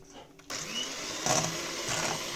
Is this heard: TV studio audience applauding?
no